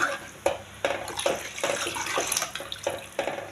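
Water splashes and pours into a cooking pot for fish curry in uneven bursts, a close, steady trickling with several short surges.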